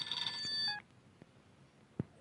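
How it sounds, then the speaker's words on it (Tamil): A telephone rings with an electronic trill for under a second, then stops, followed by quiet room tone and a single soft knock. "ஃபோன்"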